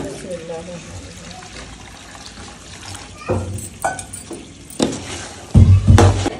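Water poured into a pot of beef karahi cooking over a village fire, a faint trickle and splash that grows louder toward the end, heard under background noise.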